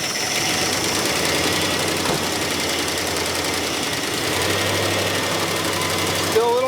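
An original Chrysler engine in a long-neglected Plymouth Barracuda idles with the revs held up, giving a steady mechanical clatter and a fast ticking rhythm that carry on throughout at close range.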